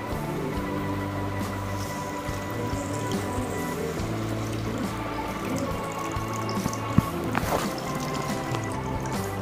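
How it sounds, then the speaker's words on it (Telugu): Tamarind juice poured into a pot of egg curry (egg pulusu) as it cooks, giving a steady liquid trickle and splash with a few small clinks, close and continuous with no talking. "పండు పులుసు ఇప్పుడు పోసుకోవాలి"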